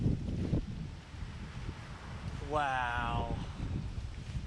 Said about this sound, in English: Just as we got here, the wind like picked up crazy too.